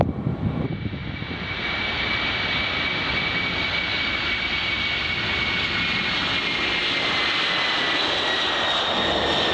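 Jet engines of an Airbus A320 spooling up during pushback at Doncaster airport, a steady loud roar with a thin high whine running throughout, close and continuous with no talking.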